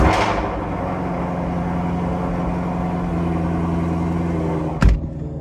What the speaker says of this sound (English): let's do another startup here without having to toggle the switches